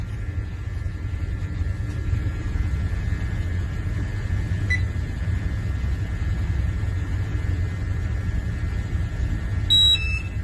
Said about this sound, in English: You can hear the alarm going off.